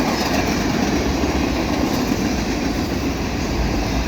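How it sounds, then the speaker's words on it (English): A Canadian Pacific Kansas City freight train of ballast cars and mixed freight rolls past at Dorval, a loud, steady close rumble of rail cars with a continuous wheel roar. "is a ballast train here on the Canadian Pacific, Kansas City, in Dorval"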